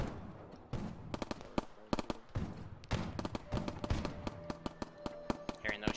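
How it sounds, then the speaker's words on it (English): Gunfire in the military game Arma 3, sharp shotgun-like blasts firing in irregular bursts, some close and some distant, with talking underneath. "Shotguns blast off."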